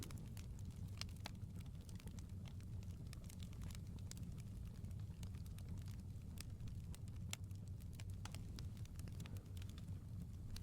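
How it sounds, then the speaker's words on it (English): A soft hearth fire crackles quietly, with sparse faint pops and snaps over a low, steady background hum. "the soft crackle of the fire"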